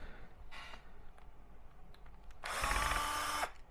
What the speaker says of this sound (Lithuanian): Atsisukam šešis varžtukus